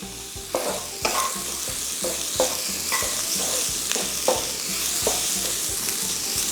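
Thin-sliced broccoli stem and carrots sautéing in a pan, a steady close sizzle broken by regular scraping stirs and tosses roughly every half second to second, with no voices.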